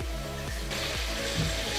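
Water poured steadily into a pot of oil and basmati rice for chicken pulao, a continuous splashing rush that grows fuller partway through.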